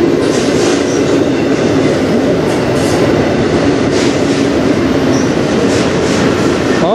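A short, loaded CN freight train rolls past on the Strathroy Subdivision near a tunnel, giving a loud, steady rumble of wheels on rail with faint clickety-clack and occasional squeal throughout, no voices.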